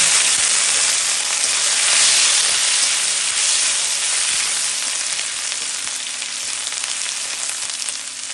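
Cumin seeds and a bay leaf sizzle hard in hot frying oil: a loud, steady, close hiss that swells slightly near the start and then eases off a little, with no voices.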